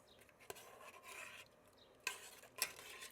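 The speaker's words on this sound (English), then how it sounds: "Now, I'll give this a stir just to mix everything up." Spices and a cinnamon stick are stirred through a pot of homemade Dr Pepper syrup, a soft scraping rub with a few sharper clinks of the spoon against the pot, fairly quiet throughout.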